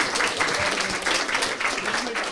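A comedy show audience claps for a couple in the crowd, a dense, steady patter of many hands at close range, with voices talking over the applause.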